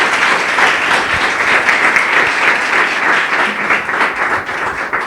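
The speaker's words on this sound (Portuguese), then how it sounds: "Louve ao Senhor com suas palmas." A church congregation claps in praise, a steady, loud wash of applause running unbroken for several seconds with dense, overlapping hand claps and no voice rising above it.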